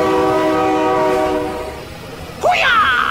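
A train horn blares loudly in the BeamNG.drive driving game, a long sustained chord that fades, followed by a sharp rising shout; people yell excitedly over the scene.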